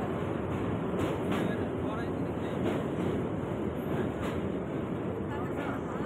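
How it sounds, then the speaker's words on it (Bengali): A crowded local train runs along a railway line near Prayagraj during the Maha Kumbh Mela, with continuous loud rumble and rattle from close by that stays steady throughout. "রেল লাইন ধরে এই লোকাল ট্রেন ধরে এখন রামবাগে যাচ্ছি"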